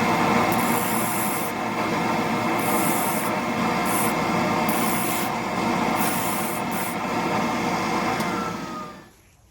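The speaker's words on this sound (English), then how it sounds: "I'll just take this to the disc sander and sand that flat." A disc sander grinds a segmented wooden pen blank flat, a loud steady abrasive whirring rasp that holds for several seconds, then winds down at the end.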